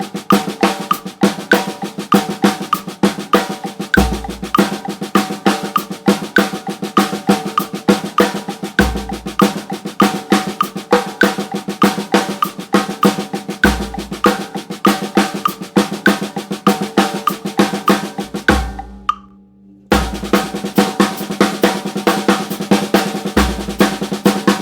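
Continuous paradiddle drumming on sticks, a dense steady stream of strokes with kick accents every few seconds and a brief pause near the end before it resumes, loud and close.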